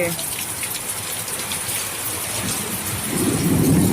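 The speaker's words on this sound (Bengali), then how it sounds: "মেঘ ডাকছে, দেখো আবার বৃষ্টি হচ্ছে" Steady heavy rain pours throughout, with a low rumble of thunder swelling louder near the end.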